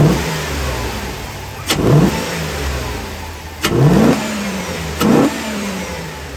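A 1999–2007 GM full-size truck engine with a Flowmaster Delta Force cold air intake idling close by, then revved in three sharp throttle blips that rise and fall, with no voices.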